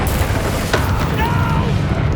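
A Confringo spell blasts in the video game Hogwarts Legacy: a loud, dense magical explosion with a booming low rumble and crackling burst, set amid ongoing combat noise.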